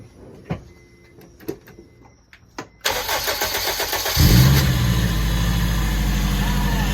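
An Acura RSX Type-S converted to turbo cranks with a whirring starter, then catches and its engine roars to life and revs, loud and close, after a few clicks and knocks; voices are heard nearby.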